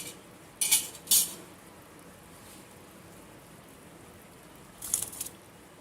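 Dry proso millet is tipped into a pot of boiling water for a millet khichdi, giving two quick close rattling pours near the start and a third short one near the end, with a soft hiss between.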